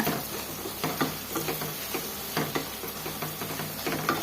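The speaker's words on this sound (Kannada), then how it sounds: "ಮಸಾಲೆ ಎಲ್ಲ ಆಯಿಲಲ್ಲಿ ಫ್ರೈ ಮಾಡ್ಕೊಂಡ್ಬಿಟ್ರೆ" Spices for capsicum rice masala fry in hot oil with a steady sizzle, broken by frequent scraping stirs and light knocks of a spoon on the pan, close and fairly loud with no talk.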